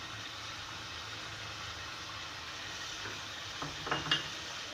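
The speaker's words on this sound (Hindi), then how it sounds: "इसे भी बहुत अच्छी तरह मैं भून लूँगी कि ये तमाम जो ज़ीरा है दही है ज़ीरे के साथ बहुत अच्छी तरह से भून जाए।" Yogurt and cumin fry in a karahi for an Afghani chicken karahi, giving a faint, steady sizzle over a low hum, with a few soft stirring knocks near the end.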